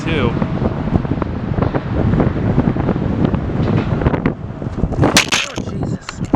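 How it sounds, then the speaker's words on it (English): Strong south wind gusting across the microphone at Portland International Airport, a steady loud roar and buffeting throughout, with a voice briefly audible in the mix. "The wind's coming from the south, so you can absolutely smell the rubber."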